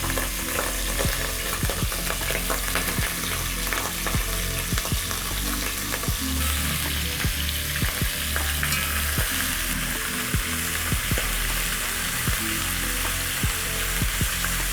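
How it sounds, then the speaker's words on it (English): Beef short ribs sear in extra-hot oil in a stovetop pot, giving a loud, continuous sizzle and crackle with sharp pops, as the pieces are pressed and shifted to give each rib space. "Then I'm going to place my meat and sear."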